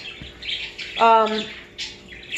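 Small caged parakeets and finches chattering and squawking, quick high chirps and a short harsh call, close by with a faint voice in the background.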